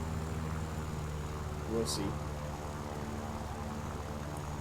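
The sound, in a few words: I-301 propeller plane engine in video game War Thunder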